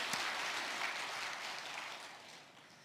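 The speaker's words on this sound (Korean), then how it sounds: "영광을 돌리려면 다 같이 박수 한번 하겠습니다." Church congregation clapping together during a Sunday worship service, a steady wash of applause from the gathered crowd that slowly fades toward the end, with no voices over it.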